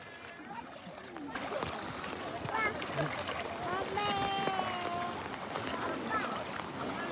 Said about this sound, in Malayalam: ഇനിയിപ്പോ ബോട്ടിലേക്ക് ഇനി ബോട്ട് തിരിച്ചു വരുമോ അതാ പോവോ